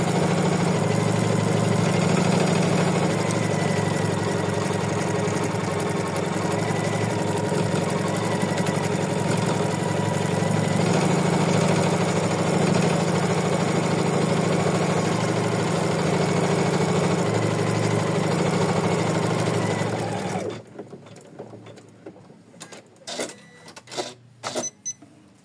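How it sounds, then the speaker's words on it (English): An embroidery machine stitches and quilts fabric for an in-the-hoop mermaid bookmark, a steady loud mechanical hum and rapid needle rattle running continuously for about twenty seconds, then stopping, leaving a few soft clicks and handling noises. "It's gonna fix and do the quilting in the same step."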